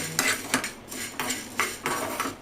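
A spoon stirs Madras charu spices, peppercorns among them, in a pan, making repeated metallic clinks and scrapes in a loose rhythm of about five strokes, close and moderately quiet, with no talking.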